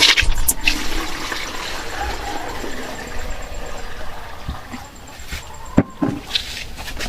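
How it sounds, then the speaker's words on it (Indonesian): Soaked liquid plant growth regulator, brown after a month, being strained into a five-liter batch: a continuous splashing pour of liquid with a few sharp knocks near the end, close by, no speech. "Nah, itu kita saring juga 5 liter."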